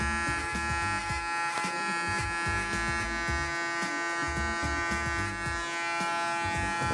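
A Panasonic electric hair clipper buzzes continuously and close while cutting hair for a skin fade, a steady high-pitched motor drone with small shifts as the blades move through the hair.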